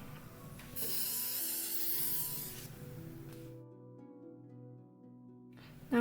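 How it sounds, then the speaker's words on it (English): Adhesive spray hisses steadily onto a T-shirt stencil for roughly two seconds of close, bright spraying, followed by a quieter stretch of low room hum. "I'm going to use adhesive spray"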